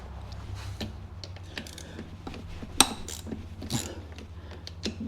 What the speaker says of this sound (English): Try and at least loosen them up in a crisscross pattern.